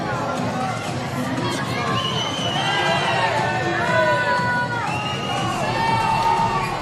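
An arena crowd at a women's para ice hockey world championship game, Great Britain against Team World, roars in protest at the referee, a dense continuous mass of shouting and whistling under a commentator's voice.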